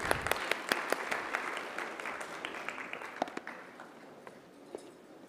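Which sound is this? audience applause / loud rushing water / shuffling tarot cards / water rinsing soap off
audience applause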